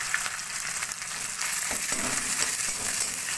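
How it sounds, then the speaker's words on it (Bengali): Fish paste goes into onions already fried reddish-brown in hot oil, setting off a steady, close, fairly loud sizzle and crackle that runs on without a break. "পেঁয়াজ আমার লাল করে ভাজা হয়ে গেছে, এবারে আমি সেই মাছ বাটাটা দিয়ে দেবো।"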